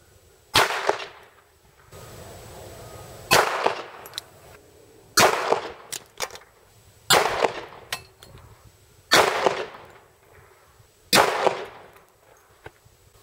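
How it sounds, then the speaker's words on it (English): Six evenly spaced gunshots of calibers from .22 to 10mm fired at close range into a Level-4 armor backpack insert, each a sharp loud crack with a short ringing tail, outdoors with no talking. "we're going to shoot it with a variety of different calibers from 22 to 10mm"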